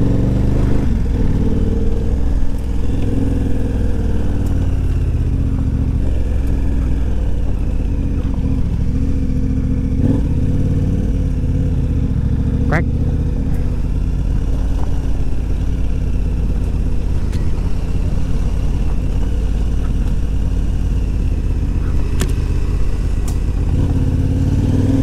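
A KTM 1290 Adventure R motorcycle on AT41 tires riding off along a trail, its engine droning steadily and loudly throughout with small shifts in revs and no talk.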